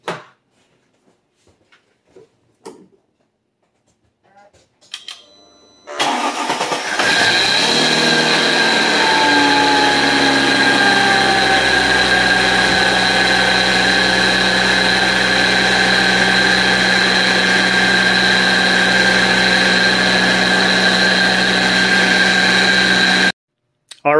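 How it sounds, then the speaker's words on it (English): A supercharged Mercedes-Benz C32 AMG engine cranks and fires after a few quiet clicks, then settles into a loud, steady idle with a high-pitched supercharger whine riding over it. "But let's go ahead and start the car up."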